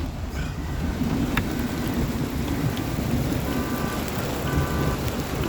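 Heavy rain pours steadily as a hailstorm arrives, a dense, loud wash of water with a low rumble underneath that could be distant thunder, continuous throughout and with no voices.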